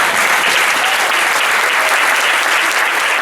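A crowd at a Mexican book presentation breaks into loud, sustained applause, a dense wash of many hands clapping close by with no pauses and no speech.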